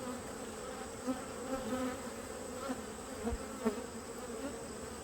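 Honey bees buzz steadily around a hive during a nectar flow, a dense continuous drone close by with brief louder passes of individual bees, no talk.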